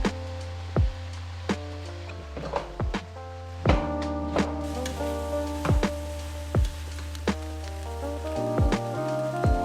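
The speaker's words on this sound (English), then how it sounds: "Add the ginger and saute for another 5 minutes." Ginger sizzles in a pan for sweet potato coconut soup, a steady crackling patter like rain with occasional soft thunks of stirring, close, beneath continuous tonal background music.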